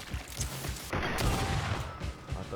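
Gunfire in the video game Greedfall, a burst of muffled shots and impacts mixed with game sound effects, fairly loud and busy over a short stretch.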